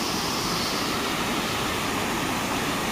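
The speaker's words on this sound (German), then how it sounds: "Der Fluss hat Hochwasser bzw. mehr Wasser wie sonst." A river swollen with floodwater rushes in a steady, loud, broadband roar, continuous throughout with no voices.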